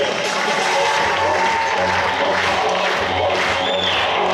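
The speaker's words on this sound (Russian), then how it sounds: "Ваши аплодисменты!" Audience at a KVN comedy cup applauds a team, loud continuous clapping with some cheering from a large crowd and a low musical hum beneath.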